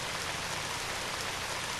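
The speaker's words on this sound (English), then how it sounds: "And now it began to rain." Steady rain pours in the video game Radiant Historia, a dense, even hiss of falling water that fills the scene without pause or any voices.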